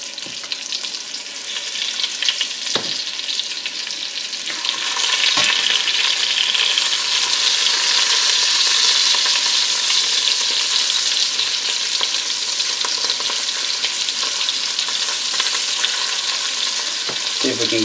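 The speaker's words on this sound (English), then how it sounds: "We're going to add more of the short ribs back to the pot here" Short ribs browning in a pot for Cajun rice and gravy, giving a steady loud sizzle of searing meat with occasional scrapes and knocks as pieces are moved around, no talking.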